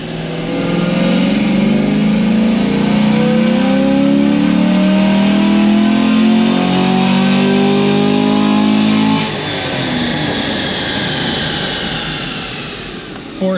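A Chevrolet LT1 V8 with headers, a cold-air intake and a quiet exhaust without dual mode revs loudly on a dyno. The engine tone climbs steadily through a long full-throttle pull and then drops off sharply as the throttle is released.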